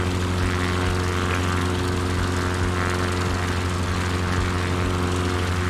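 A propeller aircraft engine drones loud and constant from inside the cabin, a steady buzzing roar with no breaks and no audible speech.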